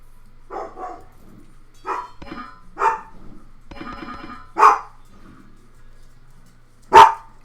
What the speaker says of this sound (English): There's no reason to be barking right now.